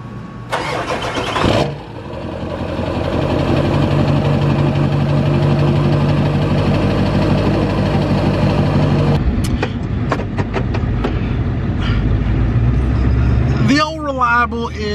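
A van hauling a heavy 50K diesel generator trailer for an event: its engine starts, then runs at a steady loud drone, with later clicks, rattles and a voice near the end.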